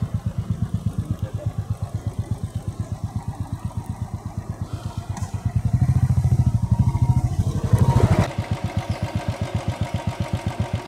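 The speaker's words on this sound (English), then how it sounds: "do you mind turning off the bike? The motorcycle?" A motorcycle engine idles nearby in a steady, fast put-put rhythm, swelling briefly louder with a couple of revs before settling back to its even idle, with no talk over it.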